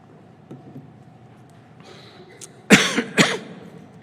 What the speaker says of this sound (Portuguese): A tosse faz parte disso, eu sei,